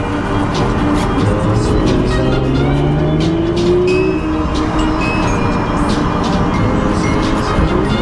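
A 2019 Audi RS5's engine roars loudly and continuously, with sharp crackles and pops from the exhaust scattered through the rumble.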